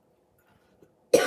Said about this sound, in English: I was coughing a few weeks ago and kind of still coughing.